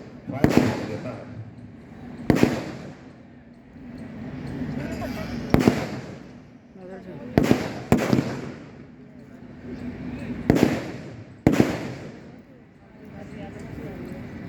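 Sharp bangs of simulated fire from an NCC fire support group during a section formation drill ring out in irregular ones and twos, each decaying quickly over a steady background of talk.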